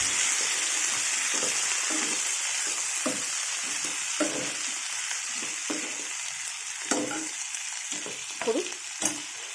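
Tomatoes and other ingredients for a mint sesame chutney frying in a pan make a loud, continuous crackling sizzle, with frequent stirring scrapes and pops.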